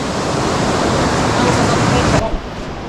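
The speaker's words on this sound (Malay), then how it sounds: "sekarang kita kena redah sungai pula" Steady broadband rush of river water during a jungle river crossing near a waterfall in the Cameron Highlands, loud and continuous, then dropping off abruptly near the end.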